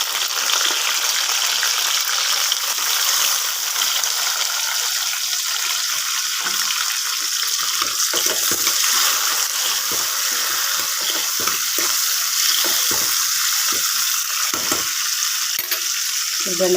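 Tomatoes and onions frying in a pan for a traditional okra stew, a steady loud sizzle with stirring and scraping noises running throughout.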